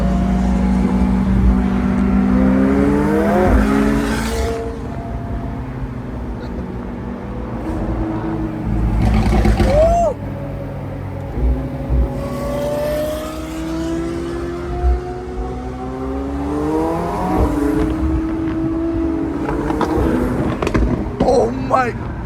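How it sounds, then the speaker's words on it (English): Straight-piped McLaren 720S engine while driving, heard from inside the car: loud, raspy revs rise and fall in repeated pulls, with voices talking over the engine throughout. "We riding the Mclaren today."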